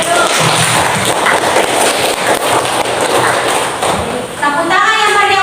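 A classroom group claps together during a lesson, dense overlapping clapping that stays loud and steady, with a voice talking near the end.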